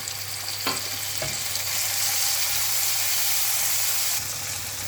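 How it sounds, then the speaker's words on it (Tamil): Onion and tomato sauté in a pan with a loud, steady sizzle and hiss, broken by a couple of brief stirring knocks. "தக்காளி நல்லா வதக்கிக்குங்க"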